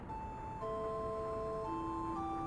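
A cable car arrives in Final Fantasy IX, announced by a soft sequence of steady chime-like tones that shift pitch step by step, fairly quiet over a low background hum, no talk.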